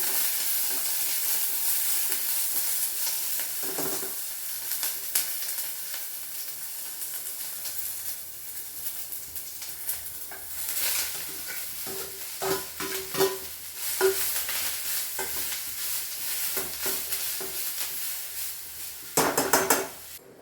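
Onions and vegetables sizzle steadily in a pan in a home kitchen while a spoon scrapes and stirs, with clinks of metal against the pan and a few sharper knocks near the end, close and continuous with no talk.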